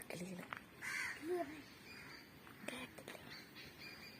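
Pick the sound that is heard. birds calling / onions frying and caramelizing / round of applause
birds calling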